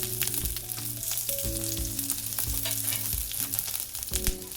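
Cumin and green chillies crackle and sizzle in hot oil. The frying is close and continuous, with a few stirring knocks and no talk.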